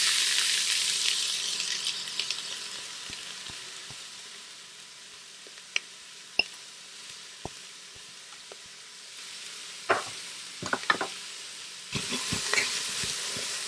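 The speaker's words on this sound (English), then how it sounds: "And now it's time to put our vegetables inside." Vegetables go into hot oil in a pan for a Bolognese ragù, setting off a loud hiss that softens into a steady sizzle. Sharp clinks and stirring scrapes come through, then a second burst of sizzling near the end.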